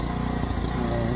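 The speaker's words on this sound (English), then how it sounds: "the tractor's running." A Cub Cadet tractor with a freshly swapped engine runs at a steady, rough drone, loud and close, with no break in the sound.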